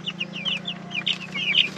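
Young chicks about eleven days old cheep continuously in a coop, with a dense run of high, close chirps.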